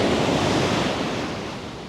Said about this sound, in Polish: No czuć to moc tych fal. Czuć moc tego oceanu.